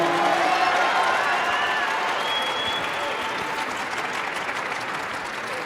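Sustained applause from an audience after an economics talk, steady and full throughout with a dense crowd wash.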